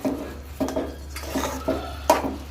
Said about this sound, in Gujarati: હવે આને આપણે સારી રીતના મિક્સ કરી લઈએ.